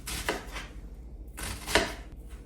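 A dull knife chops onion on a cutting board at home, two short bursts of crisp, close cutting strokes with a pause between them.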